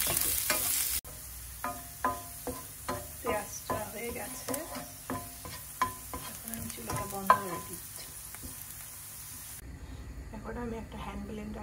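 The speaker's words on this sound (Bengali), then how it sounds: "তেলে আমি পেঁয়াজ একটু হালকা পেরেস্তার মতো করে ভেজে নেব" Sliced onions frying in oil for jackfruit-seed bharta give a continuous sizzle and hiss, broken by repeated clattering stirs of a spatula in the pan at close range, then fading to quieter steam near the end.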